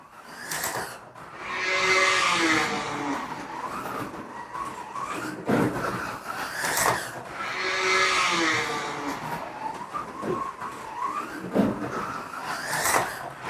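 Revving electric motors of a BRM Datsun 240Z slot car racing round a track, whining in repeated swells as it accelerates out of corners lap after lap, with no talk over it.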